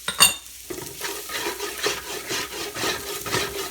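Utensil scraping and stirring across a pan bottom while baked beans cook with black pepper and garlic, a steady run of rough scrapes and faint sizzling after one sharp clink at the start.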